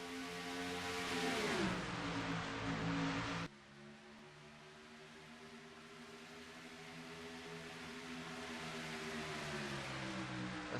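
Racing truck engines roaring at Dover in a racing video game, a loud close pass of revving engines with falling pitch, then a sudden cut to a steadier, quieter pack drone that gradually builds.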